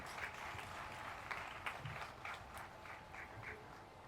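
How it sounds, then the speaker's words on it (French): Applause from a parliamentary audience in Benin, fairly faint and distant, with a rolling patter of scattered claps and a few sharper individual claps standing out. "Je voudrais que vous applaudissiez très fort pour notre maman."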